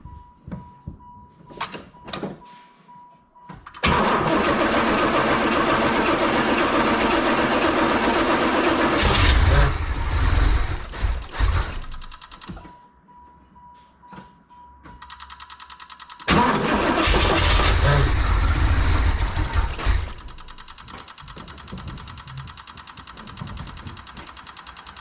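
Starter on a 1986 Pontiac Trans Am cranks loudly in long grinding bursts, the engine catching and sputtering lazily with fuel starvation at the carburetor, separated by brief pauses and clicks.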